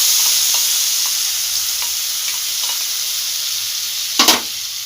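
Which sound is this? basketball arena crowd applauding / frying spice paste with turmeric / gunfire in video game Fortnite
frying spice paste with turmeric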